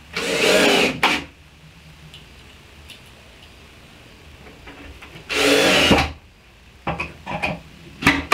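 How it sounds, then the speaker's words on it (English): Two short bursts of a power drill whirring as it drills pilot holes, each about a second long and well separated, with light taps and knocks in between. "I will drill some pilot holes and screw it into place"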